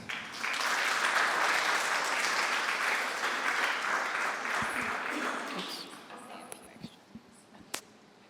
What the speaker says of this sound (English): let's have a final round of applause for all of today's speakers